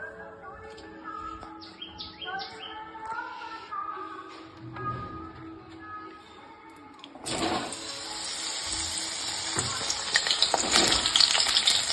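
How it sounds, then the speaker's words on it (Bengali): Pieces of pointed gourd (potol) go into hot oil in a wok and set off a sudden loud, crackling sizzle that keeps spitting steadily, coming in after a stretch of melodic music. "এবার পটলগুলোকে আমি ভেজে নেব।"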